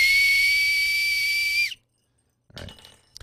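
A Homeland Security emergency whistle blown in one long, loud, piercing steady blast of about a second and a half that cuts off abruptly, followed by silence and then some faint rustling.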